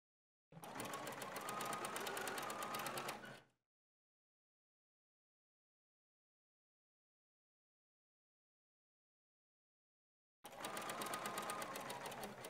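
A sewing machine stitching the facing of a coat collar, running steadily for about three seconds, stopping through a long silence, then starting again, close and clear.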